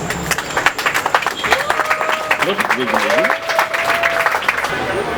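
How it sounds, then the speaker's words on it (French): An audience applauds professor Loenga at a literary tribute gathering in Bukavu, steady dense clapping throughout with a faint voice and tonal sounds threading through the crowd noise. "Vous pouvez acclamer pour lui."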